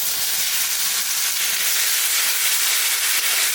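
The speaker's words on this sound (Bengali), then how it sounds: "এবার টমেটোর পিউরি দিয়ে দেবো।" Tomato puree goes into a pan of deeply browned frying onions for a chicken curry, giving a loud, steady, close sizzling hiss that carries unbroken throughout, with no talking.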